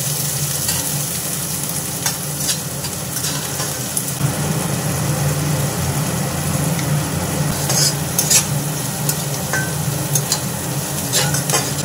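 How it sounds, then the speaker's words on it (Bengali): Onions frying in mustard oil with bay leaves and dried red chillies, a loud continuous close sizzle with stirring clatter and a few sharp spatula knocks. "ততক্ষণ আমি ভেজে নেব পেঁয়াজ। দিয়ে দেবো সরষের তেল"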